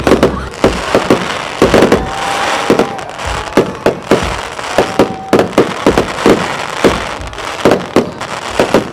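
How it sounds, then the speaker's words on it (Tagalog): Fireworks burst repeatedly during a park celebration at TLC Park in Taguig, with loud cracks and booms coming in irregular clusters over a steady crowd murmur, and a faint whistle rising between the explosions. "ongoing pa rin yung fireworks nila dito"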